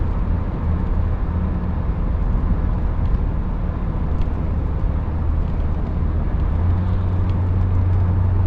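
A Toyota Corolla runs with a steady, even low rumble and road drone throughout, with no voices.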